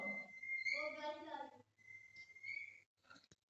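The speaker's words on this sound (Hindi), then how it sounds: "सीटियां कौन मार रहा है" Someone whistles a short, clear tune with a few rising and falling notes, then a brief pause and a couple of quick clicks.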